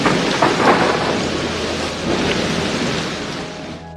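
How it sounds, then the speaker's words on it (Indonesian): Heavy nighttime rain pours in a dense, steady hiss while low thunder rumbles through it, loud and continuous with no pauses. "Dan malam itu cuaca sedang hujan."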